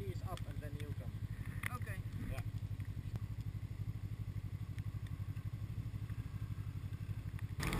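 A snowmobile rides over a bumpy trail in Lapland, Finland, its engine droning loud and steady throughout with a fast rhythmic pulse and some clatter from the rough ground, while a voice is briefly heard near the start.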